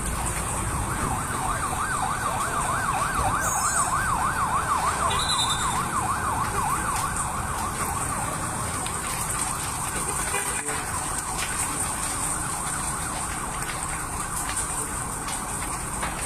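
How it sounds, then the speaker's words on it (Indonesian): A fire truck siren wails rapidly in rising and falling cycles, loud at first and then fading, over steady road and engine noise. "Mobil pemadam kebakaran."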